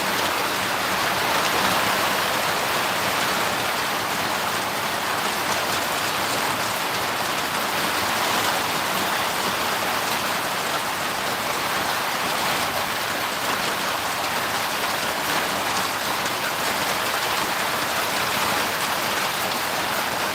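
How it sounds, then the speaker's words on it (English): Heavy rain pours down steadily on a camping boat, a dense, even hiss of water drumming on surfaces that fills the whole stretch without a break, close and loud with no voices. "Well, that rain is really coming down now."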